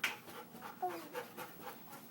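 A dog pants softly nearby in quick, rhythmic breathy puffs over a couple of seconds, faint and close.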